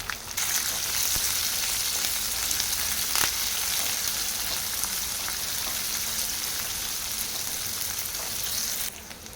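Cumin and onion fry in hot oil while upma is made with Bombay rava. A dense, even sizzle crackles steadily and fairly loud for several seconds, with no talk, then cuts off abruptly near the end.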